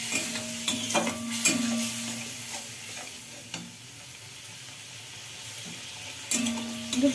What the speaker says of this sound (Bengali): একটু জল দিলাম মশলাটার মধ্যে।